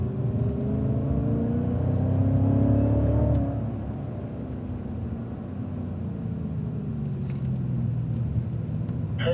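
A Cadillac CTS-V accelerates on a race track, heard from inside as a loud, steady engine drone whose pitch climbs over the first few seconds, then eases into a lower sustained rumble.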